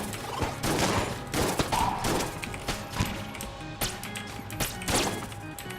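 Rapid, overlapping bursts of gunfire from the video game Enter the Gungeon, with sharp shots and fusillades in quick irregular volleys throughout, loud and close.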